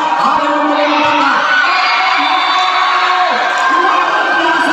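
Crowd at a volleyball final cheering and shouting loudly throughout, a dense sustained roar with whoops and children's voices, while an announcer talks over it.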